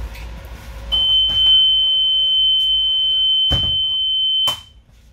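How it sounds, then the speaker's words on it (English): A bus emergency exit window alarm sounds during an in-cab inspection, a steady high-pitched electronic tone lasting several seconds, broken by a few clunks and knocks from the window. "My emergency exit sound alarm sounding, letting my examiner know my emergency exit window is working properly."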